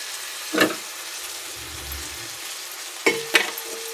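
Tomatoes and salt frying in a pan for a cluster bean curry, a low steady sizzle with a few sharp, close spatula scrapes as the mixture is stirred, no voices.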